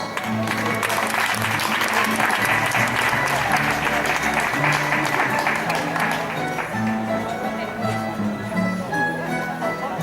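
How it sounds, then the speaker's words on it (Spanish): An audience at an Aragonese folk song and rondalla festival in a Puerto de Sagunto casino hall claps in a dense, sustained round of applause for about ten seconds, with faint tonal sounds underneath. "dirigida por el maestro Jesús Monleón, para quienes pido el primero de los aplausos"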